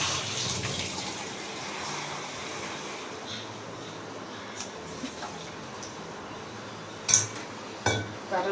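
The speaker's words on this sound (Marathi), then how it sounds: "थोडंसं पाणी उकळत ठेवते." Water pours into a cooking pot set aside to boil for gravy in a home kitchen, a steady gushing splash that fills the first few seconds, followed by quieter running and a couple of sharp metallic clinks near the end.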